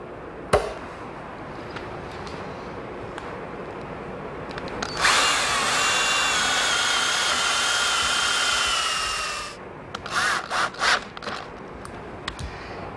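A power drill drives screws to fix an oak corbel onto a Morris chair, one sustained whirring run of about four seconds, then several short bursts as the screws seat, with clicks around them.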